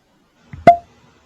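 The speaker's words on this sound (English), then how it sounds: "Oh, very nice cork pop too." A cork pops out of a bourbon bottle, a single short, close, hollow plop with a quick squeak just before it, heard alone against silence.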